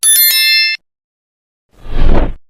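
A bright notification bell chime rings out alone, followed after a short silence by a low whooshing swell.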